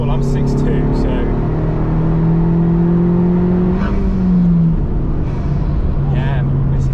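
A Honda Civic Type R FK2 driving along a country road, its engine a steady loud drone heard from inside the cabin with pitch rising and shifting as it accelerates, plus occasional higher whines and clicks.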